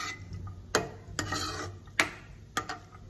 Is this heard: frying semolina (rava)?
yes